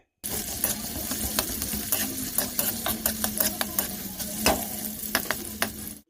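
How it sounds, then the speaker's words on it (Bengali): Onions stirred and fried in a pan, a continuous close sizzle with frequent scraping strokes of the spoon throughout, no talking. "এবার পেঁয়াজটাকে ভালো করে নাড়াচাড়া করে একটু ভাজা ভাজা করে নিতে হবে।"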